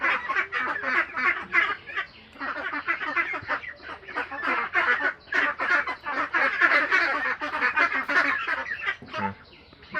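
A flock of ducks being given injections quacks and honks continuously, with dense overlapping calls rising and falling close by for the whole stretch.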